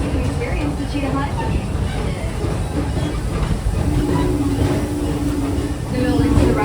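Park train at Busch Gardens Tampa Bay rolling along its track, a steady low rumble with hissing and clacking, close and continuous, with a voice talking over it.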